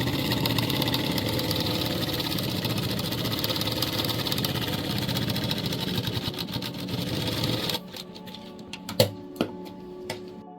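Sewing machine stitching a shirt collar, a fast steady mechanical whirring run for about eight seconds, then stopping into a few scattered clicks and taps.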